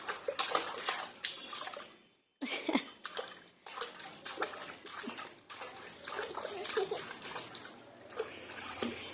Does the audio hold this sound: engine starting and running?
no